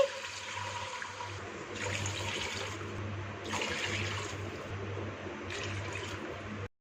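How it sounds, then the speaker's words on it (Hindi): Water pours steadily into a hot pan, a continuous rushing splash with a low hum beneath, ending abruptly after several seconds. "इस स्टेज पे इस पे पानी शामिल करेंगे।"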